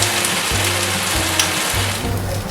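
Honey dijon pork chops sizzle in a hot pan, a loud, steady crackling hiss close by with no break, like heavy rain on a surface.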